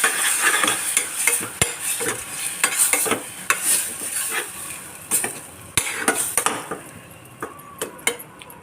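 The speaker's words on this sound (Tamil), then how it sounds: "உப்பு போட்டு அது நல்லா வதக்கி விட்டுருவோம் எல்லாத்தையும் சேர்த்து கொஞ்சம் நல்லா வதங்கட்டும்" A tomato mixture with salt sautéing in oil for tomato rice, with steady sizzling under frequent scraping and knocking of a spoon against the pan, close and fairly loud; no talking.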